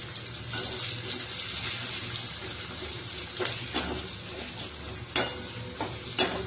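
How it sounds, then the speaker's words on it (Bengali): Onion frying with cumin and ginger garlic paste in a pan, a steady hissing sizzle broken by a few sharp scraping stirs near the end. "পেঁয়াজ দিয়ে ভালো করে ভাজা ভাজা করবো"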